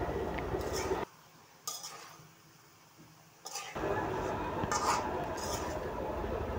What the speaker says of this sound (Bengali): এখন ভালোভাবে আমি নেড়ে কতক্ষণ ভেজে নেব, মশলার সাথে কষিয়ে নেব